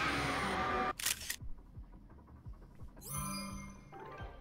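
Camera shutter snapshots in Zelda Tears of the Kingdom, a sharp click near the start and another bright shutter burst a couple of seconds later, with soft game ambience in between and no talk.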